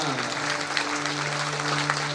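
An audience claps vigorously during a devotional storytelling performance about Vishnu's Vamana avatar: a steady, dense wash of applause over a sustained musical drone, lasting a couple of seconds.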